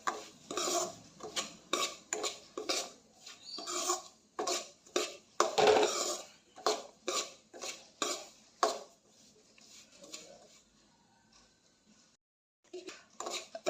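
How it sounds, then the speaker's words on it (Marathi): A spoon scraping and clinking in a pan as semolina is roasted with dry fruits for sheera: quick rhythmic stirring strokes, close and steady, with a faint sizzle, then a quieter pause and a few final scrapes. "आता यामध्येच रवा घालते एक वाटी रवा घेतलेला आहे तो घालते मंदाचेवर खमंग भाजून घ्यायचं आहे"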